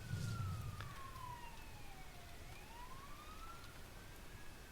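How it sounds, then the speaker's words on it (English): A police-style emergency siren wails in the distance, its pitch sweeping down then rising again in a slow wail, faint behind a steady background hum and a brief low thump at the start. "damn sirens"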